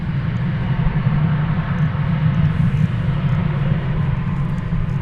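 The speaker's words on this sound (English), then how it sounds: "We focus our attention now on this little bitty Contour Embraer" A Contour Embraer 145 regional jet at DFW Airport gives off a steady, loud engine rumble that holds level throughout, with broadband roar and no talk over it.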